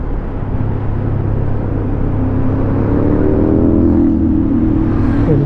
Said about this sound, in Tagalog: Daming truck oh.